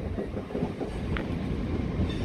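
An Azuma train bound for Newcastle rolls into platform 4 at Doncaster station, a loud, steady rumble of wheels and carriages close by, with a brief squeal partway through and no talking.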